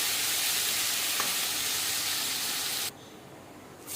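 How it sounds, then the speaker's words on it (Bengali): Prawns coated in salt and turmeric frying in oil, a dense hissing sizzle that is steady and moderately loud, then drops abruptly to a softer hiss near the end. "নুন হলুদ দিয়ে আমি চিংড়ি মাছগুলো তেলের উপর ছেড়ে দিলাম"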